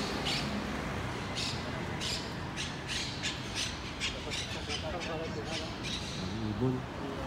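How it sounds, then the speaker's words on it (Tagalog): Bird squawks and calls ring out over a steady background of outdoor noise, with a few harmonic calls near the end. People can be heard talking nearby. "Ibon."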